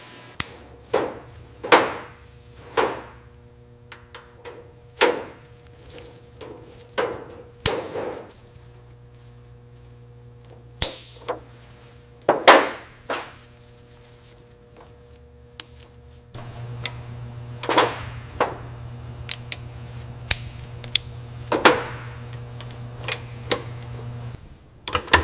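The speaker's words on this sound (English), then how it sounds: "A mechanic meticulously installs new bushings, ball joints, and shock absorbers into Mater's suspension system" A mechanic fits new bushings, ball joints and shock absorbers into the suspension of a restored, previously burned tow truck, producing sharp metallic clangs and hammer taps at irregular intervals over a low steady hum, close and without speech.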